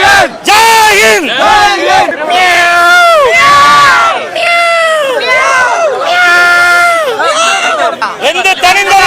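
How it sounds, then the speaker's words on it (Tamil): A large crowd at an event cheers and shouts, with loud, continuous, overlapping voices that rise and fall in swelling waves. "இந்த கைத்தட்டல் அனைத்தும் உலக நாயகன் அவர்களுக்கு"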